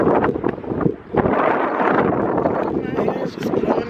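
Gusty outdoor wind buffets the microphone in rough, uneven bursts, loud and close, with a person talking over it much of the time.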